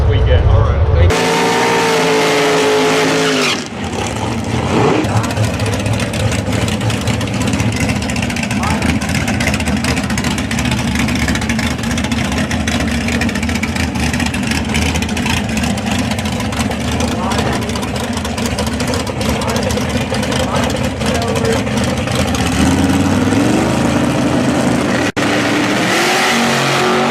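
Race cars at a racetrack roar continuously and loudly, with engines revving and droning throughout, and a voice talks over the engine noise.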